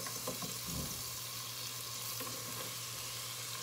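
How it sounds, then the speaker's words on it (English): Sliced vegetables, including onions, sizzle steadily in melted butter in a saucepan, a continuous close frying hiss with a few soft scraping stirs near the start. "The butter has melted, and I'm just gonna slide all these vegetables that we just sliced in a saucepan"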